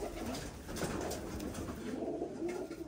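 Domestic pigeons cooing steadily close by, a continuous low murmuring coo under a busy background, with no talk.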